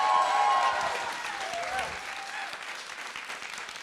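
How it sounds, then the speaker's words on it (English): Applause at a game design awards ceremony, a warm burst of clapping that starts full and gradually thins and fades, with a faint voice threading through early on. "Please give a warm round of applause for Julia Santon."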